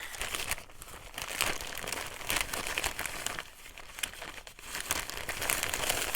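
Old paper crinkles and crumples steadily for several seconds while being handled during altered-book crafting, with close, continuous rustling and occasional sharper crackles.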